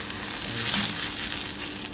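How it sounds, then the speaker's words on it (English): Flour poured in one go into boiling choux pastry liquid and stirred over reduced heat gives a steady, fairly loud sizzling hiss with soft scraping and crackling throughout, and no talking. "you reduce the heat and you just put your flour in one go"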